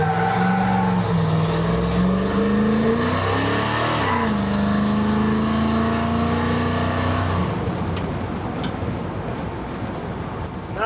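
An engine fitted with an oversized AVS carburetor, bigger than the 650 it replaced, revs loud and close. A sustained rising and falling drone peaks in a spike before dropping to a rougher idle rumble.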